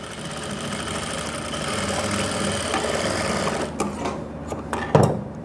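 A sewing machine runs steadily, stitching trouser fabric for pants with a front belt and elastic back, its close, even mechanical whir continuing throughout before a few brief clunks near the end.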